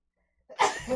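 One quick, sharp sneeze bursts out of near silence, close and fairly loud.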